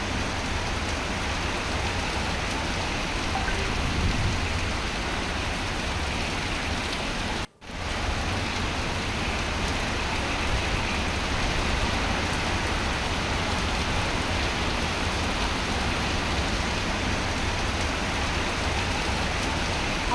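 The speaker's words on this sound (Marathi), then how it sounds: "या क्षणी पाऊस किती जोरदार पडतोय" Heavy rain pours down steadily in Navi Mumbai in a dense, unbroken hiss, briefly cutting out for a moment before resuming just as strongly.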